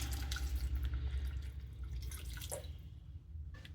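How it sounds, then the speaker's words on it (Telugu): Water is poured into a pan of garlic curry as it simmers, giving a steady splashing trickle over a low continuous cooking rumble, fairly close and moderately quiet. "ఇలా మగ్గుతున్న టైంలో కొంచెం వాటర్ వేసుకోండి"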